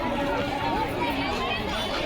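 Dense murmur of a large crowd at a Shiv Mahapuran katha religious fair in Kawardha, Chhattisgarh, with food and goods stalls, a steady babble of many voices filling the space without pause.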